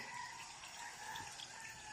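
Water runs steadily from a tap, a continuous close gushing flow that stays even throughout.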